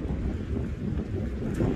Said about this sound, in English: That wind is just blowing in. That speaker's got to be going crazy in you guys' ears.